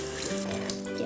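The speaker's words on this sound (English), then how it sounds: "you guys can see the water that is getting rinsed is murky, to say the least" Tap water runs steadily and splashes in a sink while shampoo is rinsed out of long-bristled makeup brushes, a constant close hiss with no talking.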